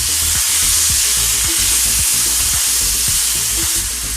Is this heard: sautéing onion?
yes